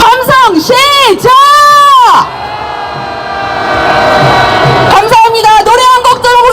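A street protest crowd raising a sustained roar and cheer, a broad loud wash of many voices after amplified chanting, with megaphone-like calls before and after.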